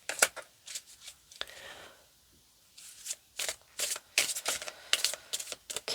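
Playing cards riffled and shuffled for a tarot-style card reading, a run of crisp papery bursts, a pause, then a faster cluster of riffles, close and moderately loud with no talk.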